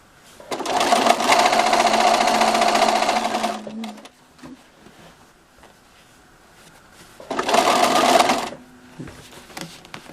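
A sewing machine stitching binding onto a quilt runs in two loud, fast, steady bursts, about three seconds and then a shorter one, with a quiet pause of fabric handling between them.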